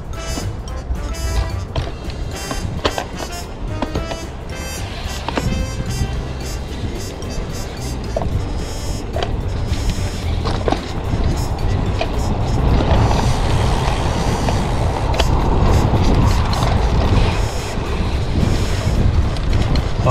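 A road bike on road bike tires rolls along outdoors with a tablet mounted on the handlebar, heavy wind buffeting the microphone over steady tire rumble that grows louder as speed picks up.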